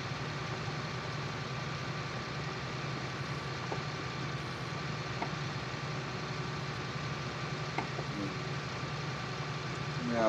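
Tractor engine in Farming Simulator 19 runs at a steady, droning idle-like hum with a few faint clicks, continuous and moderately loud, with no talk over it.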